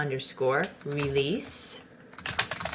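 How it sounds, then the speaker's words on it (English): Someone talks briefly, then types a Linux command on a computer keyboard: a quick run of close, crisp key clicks fills the last second. "I'm going to type lsb_release."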